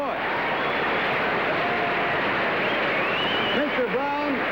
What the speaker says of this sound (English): When Mr. Brown, the chauffeur, starts this up, just listen to this engine purr.